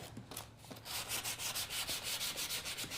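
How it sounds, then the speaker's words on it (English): Hand sanding of freshly cut wooden edges with 220 grit sandpaper on a floral box welcome sign, close and steady rhythmic scratchy strokes, about a dozen back-and-forth rubs. "I'm gonna go around the perimeter where we cut and just kind of sand it"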